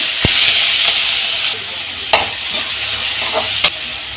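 Chopped ingredients added to hot oil in a pan while cooking meal maker cutlets, giving a steady loud sizzle with a few sharp stirring clicks and a brief drop in hiss partway through.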